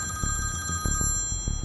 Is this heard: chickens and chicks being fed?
no